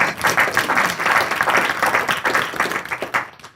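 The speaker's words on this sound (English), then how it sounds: "Let's give Wendy another round of applause." A round of audience applause for Wendy at an African American Studies panel discussion: steady, dense clapping from a seated crowd that holds for a few seconds before cutting off.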